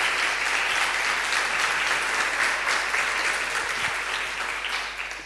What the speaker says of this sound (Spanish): pues un aplauso, efectivamente